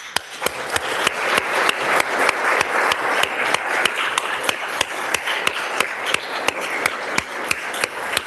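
A state House chamber crowd gives sustained applause to guests seated in the gallery, with dense, steady clapping and sharp individual claps standing out throughout.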